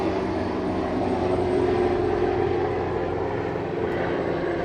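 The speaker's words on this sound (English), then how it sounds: "helicopter, an orange one." Steady, broad engine roar of an orange helicopter passing overhead, loud and continuous without any talking.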